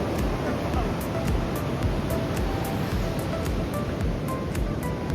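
Steady, loud ocean surf at Newport Beach on the Oregon coast, a continuous broadband wash of waves with wind noise against the microphone and no distinct breaks.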